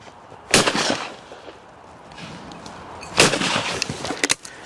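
Two loud shotgun blasts from a Browning built for the American market, fired at clay targets, the reports sharp and close with brief echoing tails about three seconds apart.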